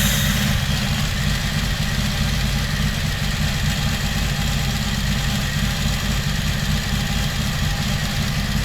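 A 1982 Honda Magna V45 motorcycle engine idles steadily and close by while its carburetors are being synchronized, a constant low rumble with an even, unbroken pulse and no speech.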